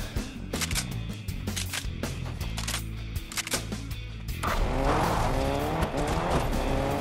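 Video-game car engine revving and racing with sharp tire squeals and skids, the motor loud and continuous, with a surge of screeching tires in the second half.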